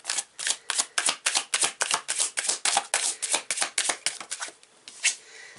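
Tarot cards being shuffled by hand, a steady run of crisp riffling flicks close up, about a dozen quick bursts in a row with no talking.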